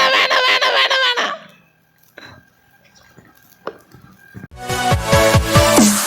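A puppet-show chicken clucks and crows in loud bursts at the start and again at the end, with near silence, faint clicks and small knocks in between.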